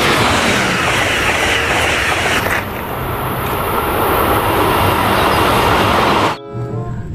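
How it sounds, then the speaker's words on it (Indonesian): Toy high-speed train sound effects play loudly and continuously for several seconds, a bright rushing mechanical whir that shifts partway through and cuts off abruptly near the end. "Yang ini ada kereta cepat."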